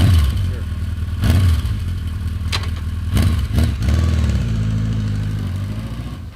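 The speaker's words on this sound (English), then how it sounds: "Are we doing a drive-by on it?" A 1983 Honda CB1000C cruiser with a 1000cc superbike engine and shaft drive runs close by with several sharp throttle blips, then settles into a steady rumble that slowly fades.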